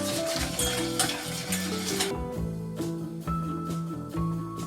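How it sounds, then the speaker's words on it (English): Milk whisked in a bowl while it is slowly poured in: quick rhythmic metal-on-bowl stirring and scraping, close and continuous, over a steady tonal background. "So now you keep pouring your milk really slowly and keep whisking at the same time."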